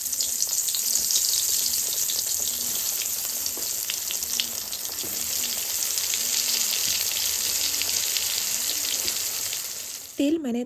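Brinjal pieces marinated in salt and turmeric fry in a generous amount of hot oil, a loud, steady, close sizzle running throughout while a voice talks over it.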